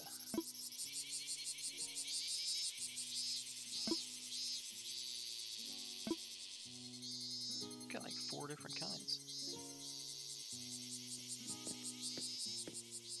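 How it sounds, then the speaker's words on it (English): Brown cicada in Animal Crossing New Horizons, a steady high insect chirring that runs through the whole clip beneath game music with low plucked tones and short chimes. "Brown cicada."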